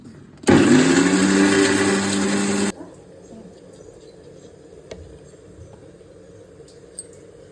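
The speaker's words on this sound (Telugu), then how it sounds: "అంత మెత్తగా మిక్సీ పెట్టుకోవాలి." Mixer grinder blending chickpeas, salt, chilli powder, tamarind and a little water into a smooth paste, a loud steady whirring burst for about two seconds that stops abruptly, leaving quiet room noise.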